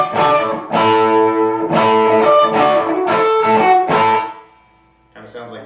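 Electric guitar through a Boss ME-90 turbo overdrive at its minimum setting, muddy, several sustained distorted chords ringing out loud and close, then a brief fade and another strum.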